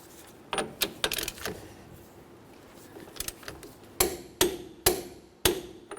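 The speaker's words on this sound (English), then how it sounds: "Now I'm going to continue on by torquing this to 155 foot-pounds." Torque wrench clicking on a 2004-2010 Chevrolet Cobalt front wheel hub nut, a few scattered clicks early on, then four sharp, evenly spaced metallic clicks close by, with no talking.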